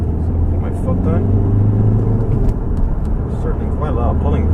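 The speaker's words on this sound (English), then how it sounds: "You can really feel the turbo kicking in." A 1.8 litre TDCi turbo diesel car accelerating hard on a bypass, with a loud, steady in-cabin engine drone and rising turbo pull, while someone talks over it throughout.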